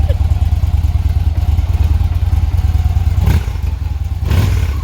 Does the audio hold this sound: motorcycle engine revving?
yes